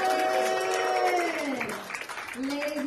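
A comedy club audience applauds in the background, the clapping partly covered by a loud voice speaking over it near the microphone.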